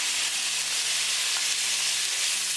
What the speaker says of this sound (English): Mix it and keep it moving and keep cooking.